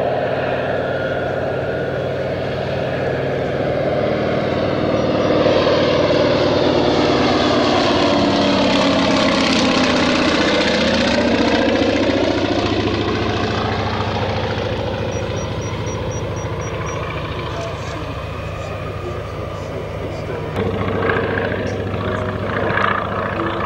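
Antonov An-2 biplane, a Soviet-designed radial-engine utility aircraft later built in Poland, at an air show, its engine droning loud and steady throughout with rising and falling pitch as it passes, no talk.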